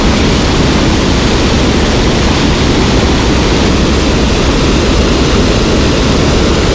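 A flooded Ozark river rushes past in a steady, loud, broadband roar of high water that stays constant throughout with no breaks.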